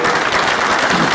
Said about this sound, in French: On l'applaudit, Jean-Pierre Bélanger.